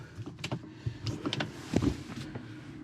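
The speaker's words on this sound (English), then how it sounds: "we're gonna go ahead and shift into four-wheel drive low" A 2021 Jeep Wrangler Rubicon 4xe plug-in hybrid shifts into four-wheel drive low, giving a run of close mechanical clunks and a short whirring actuator sound inside the cabin, with no talking.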